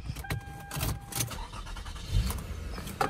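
A Toyota Solara's engine cranks over with a short starter whir and catches into a running idle, heard close from inside the car with some clicks and rustling around it.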